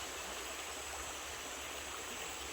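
A clear, shallow river flows steadily over rocks, a continuous close rushing wash with no talking.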